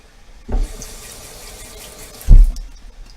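A kitchen tap runs water into a pot in a sink: a continuous soft hiss of flow, broken by two heavier thumps or splashes about two seconds apart, close to the microphone.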